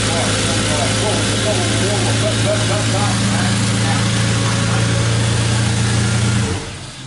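A 4x4 pub runner's engine runs steadily with a low, even drone, loud and close, then cuts off and fades near the end.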